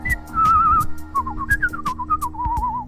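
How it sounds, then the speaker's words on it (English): A person whistles a wavering melody alone, close and clear, with gliding pitch changes and faint background knocks. "I can whistle like this."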